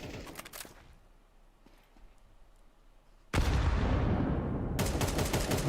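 Sharp gunshot bursts from an AWP sniper rifle in a Counter-Strike 2 match: a few loud cracks at the start, a quieter stretch, then a sustained loud blast of gunfire and explosion noise filling the rest.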